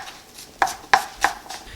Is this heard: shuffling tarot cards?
no